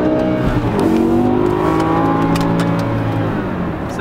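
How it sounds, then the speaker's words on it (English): A 2006 BMW M5 engine revs hard under full throttle, pitch climbing steadily as it accelerates, loud and close with a roaring exhaust. "we'll get a wide open throttle run"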